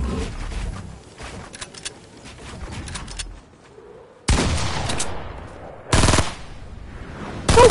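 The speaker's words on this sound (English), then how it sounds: "Don't shoot me with the AR." Assault rifle fire in the video game Fortnite, loud bursts of rapid automatic shots that start and stop abruptly, mixed with softer game ambience and no speech.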